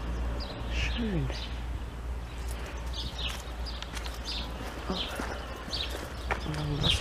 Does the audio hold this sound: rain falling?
no